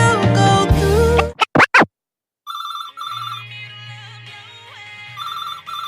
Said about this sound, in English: I looked at the phone a few times and even debated answering it